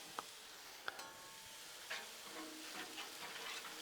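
Bacon sizzles faintly on a Blackstone flat-top griddle beside browning hash browns, a soft steady crackle with a few sharp ticks and clicks of metal over it.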